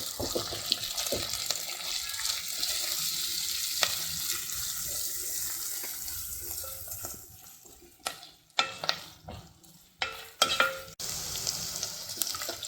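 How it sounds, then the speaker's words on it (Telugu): Onions and green chillies sizzle in a hot pan for stuffed-brinjal biryani, a steady close hiss that later breaks into sharp scraping stirs and clatters as the vegetables are tossed. "ఇది కూడా ఫ్రై చేసేసుకుందాం."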